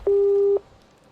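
Phone call hang-up tone, a single steady electronic beep lasting about half a second. It is loud and clean, then cuts to near silence.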